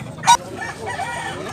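A chicken, a Blackwell gamefowl, gives a short, sharp cluck, followed by softer low clucking, close by.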